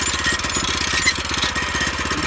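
A portable sawmill's small engine runs close and loud at a rapid, even chugging pace, with no talk over it, while the cutting height is set before squaring a log.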